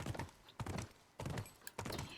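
Horse hooves while riding in The Last of Us, four heavy clip-clop hoofbeats at an even gait, quiet and slightly distant, with no talking.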